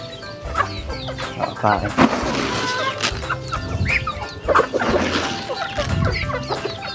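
Chickens clucking busily at feeding time in a backyard pen, many birds close by clucking and squawking over each other steadily, with a few brief spoken words from a person feeding them.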